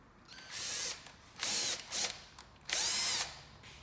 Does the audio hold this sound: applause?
no